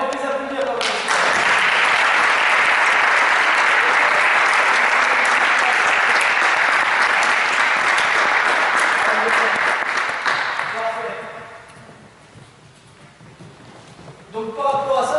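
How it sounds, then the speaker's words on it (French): Young girls' handball training group, under-13 and under-15 players, applauding: dense, loud clapping from about one second to eleven, fading out, with voices before and after. "Allez, on peut les applaudir"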